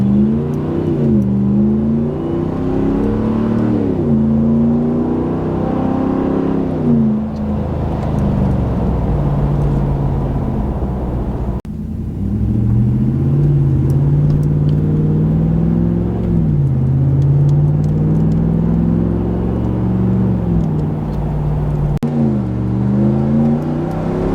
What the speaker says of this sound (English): let's just listen to this beautiful MBRP Catback exhaust